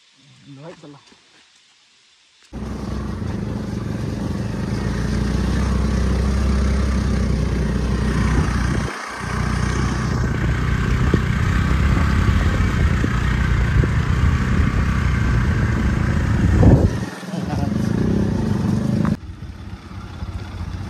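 An off-road motorcycle on a slippery road in the rain gives a steady, loud engine drone for most of the stretch, cutting out briefly twice, with quiet voices at the start and end.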